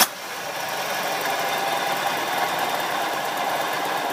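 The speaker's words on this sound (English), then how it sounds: "I'm concerned with this bearing noise." A rebuilt EZGO 295 golf cart engine runs steadily up close with a continuous, buzzing mechanical drone and bearing noise, and no talking.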